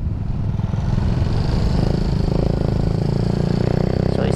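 Raider J115Fi motorcycle with a stock standard exhaust pipe, revving steadily and loudly at close range with a continuous rough buzzing engine note and no talking.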